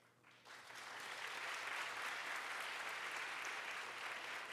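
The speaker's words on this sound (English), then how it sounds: "I know you will join me in a round of applause honoring her." Applause honoring a 111-year-old woman at a gardening and horticulture event, quickly swelling from near silence into a sustained, even wash of many hands clapping, moderately distant and steady.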